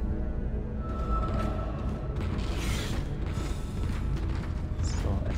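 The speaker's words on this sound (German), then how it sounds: "So, endlich höre ich die Tür nicht mehr im Hintergrund. Ah, doch, man hört es doch." A creaking, grinding door mechanism from the Dead Space game drones steadily in the background alongside a low rumbling ambience, with no clear onset or break.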